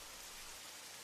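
Steady rain falling, a dense and even hiss of droplets that holds without a break.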